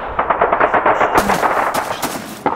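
Rapid machine-gun and rifle fire from the Call of Duty 2 World War II shooter game, loud and sustained in dense bursts with a few sharper single shots near the end.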